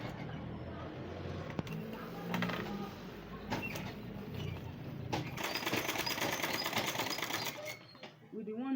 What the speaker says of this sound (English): You will now sew the rope together with the cloth.